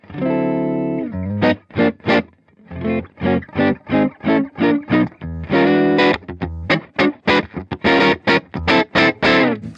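Clean electric guitar played through a Hiwatt Blues Saraceno Studio Stage amp, ringing out a steady run of plucked notes and short chords with brief gaps between phrases, close and fairly loud with no talking.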